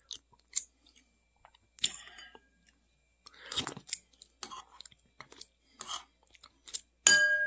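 Crunchy chewing of Club mini crackers, close and quiet, with scattered crisp bites and crunches coming in irregular bursts against a silent background.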